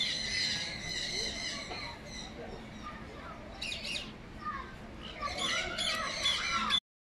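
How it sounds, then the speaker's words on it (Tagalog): Birds squawking at Riyadh Zoo, with a mix of harsh squawks, caws and chirps from several birds in an aviary, moderately distant and overlapping against a soft outdoor background, with a voice speaking faintly. "Ibon, maraming ibon na iba-ibang pangalan."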